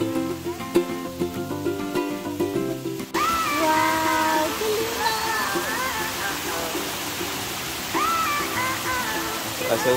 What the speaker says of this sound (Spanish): La segunda cascada.